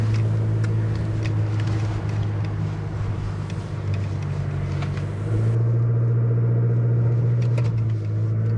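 A 2023 Chevy Colorado Trail Boss crawls off road in four-wheel-drive auto with its wheels slipping, a steady low engine rumble heard from the cab, with some rattling and bumping and a shift in engine tone midway.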